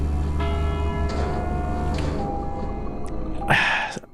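A church-style bell tolls in a video game set in a rural town, with long sustained harmonic rings that decay slowly, several strikes layered over background music and ambience.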